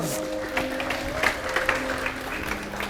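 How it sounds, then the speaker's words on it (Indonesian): An audience applauds steadily through a talk about genius and solitude, the clapping dense and sustained at moderate loudness, with a low hum and faint tonal lines beneath. "Tepuk tangan"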